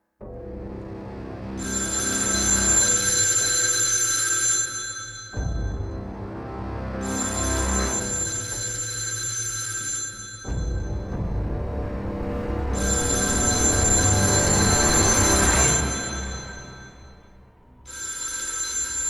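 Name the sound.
telephone ringing in a kitchen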